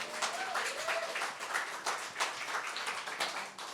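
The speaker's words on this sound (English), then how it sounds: "I'd like to hear another nice round of applause for our artists" An audience at a live music show in the round claps for the artists, a fairly faint, steady patter of applause lasting a few seconds with a brief murmur of voices.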